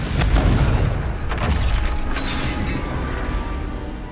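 A Confringo blasting spell explodes in Hogwarts Legacy, a loud low boom with a rumbling crash that swells and decays over a few seconds.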